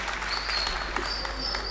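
An audience at a Congolese night event in Cairo applauds a band's manager with a sustained, moderately distant round of clapping and little talk.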